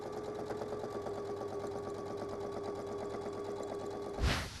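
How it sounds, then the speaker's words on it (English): A sewing machine runs steadily, stitching along the bottom of a fabric pocket for a knitting tool caddy. Its close, continuous rapid whirring ends with a short thump near the end. "now we're just going to sew to secure all of the rest of the bottom of the pocket as we go through."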